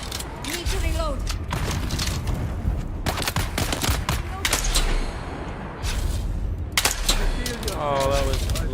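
Gunfire in the video game Dune Awakening, repeated sharp bursts and rapid volleys of shots with mechanical clatter between them, loud and close, while someone talks over the action.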